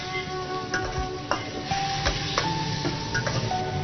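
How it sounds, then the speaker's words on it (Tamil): Onion, tomato and garlic sauté in a pan, a steady close sizzle with scattered clinks and scrapes of a spoon stirring throughout. "கொஞ்சம் வெங்காயம், தக்காளி, பூண்டு மூணுமே சேர்ந்து ஒரு நல்லா வதங்கணும்"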